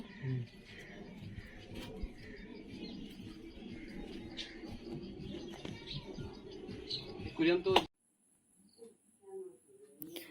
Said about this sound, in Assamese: আৰু এইকেইটা হৈছে ভিন্দৰ চৰাই, পোহনীয়া চৰাইকেইটা।